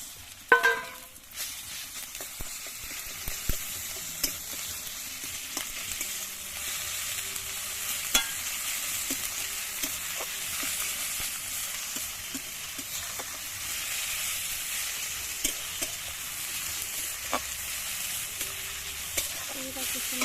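Onions frying in a pan, a steady close sizzle running throughout with scattered small pops and occasional stirring scrapes, and no one talking.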